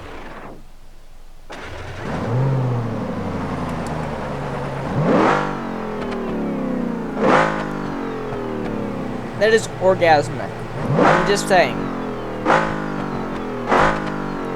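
A truck engine in BeamNG.Drive cranks and starts, then idles with a low rumble broken by repeated sharp revs that climb and fall, close and loud, while someone talks over it.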